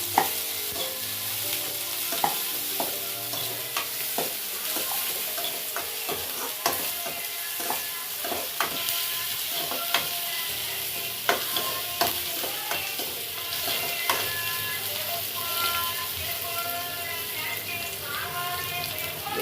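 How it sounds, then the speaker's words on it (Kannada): Capsicum stir-fried in a pan for a paneer roll: a constant loud sizzle with frequent scraping stirs, heard up close for a sustained stretch with a faint voice in the background. "ಸ್ವಲ್ಪ ಕ್ಯಾಪ್ಸಿಕಮ್ ಹಾಕ್ತಾ ಇದ್ದೀನಿ ಇದನ್ನು ಒಂಚೂರು ಫ್ರೈ ಮಾಡ್ಕೊಳ್ಳೋಣ"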